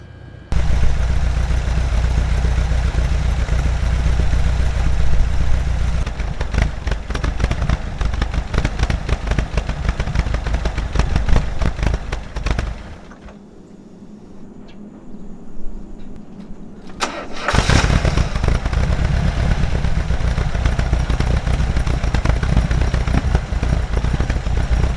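A 1988 VW Vanagon engine runs steadily and loud for most of the stretch, a dense continuous drone that drops away briefly to a quieter lull before surging back at full strength, with no voices.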